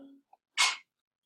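A single short, sharp sneeze in a math classroom during a lesson. It comes right after a teacher's voice briefly trails off.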